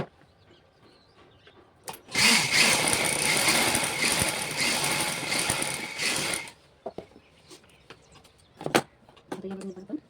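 A sewing machine runs in one continuous burst for about four seconds, stitching darts into a prince-cut blouse, close and fairly loud, followed by quieter handling clicks and rustles.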